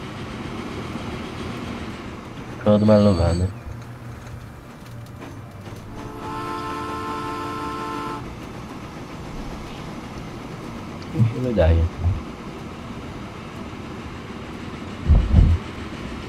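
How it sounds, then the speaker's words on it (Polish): Train running in the Transport Fever video game, a steady rolling rumble with brief louder clatters and a whining tonal passage, while people talk in Polish over it. "Jaki fajny ten pociąg."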